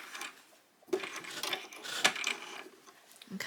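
Domestic sewing machine running a few short back stitches on dressmaking fabric, a quiet mechanical whirring and clicking of the needle and gears that starts after a brief pause and runs for a few seconds.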